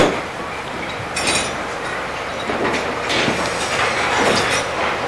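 Ghost train ride car at a fairground running fast along its track, with a continuous rattling roar, metallic clinks and a steady rumble throughout, fairly loud and with no talking.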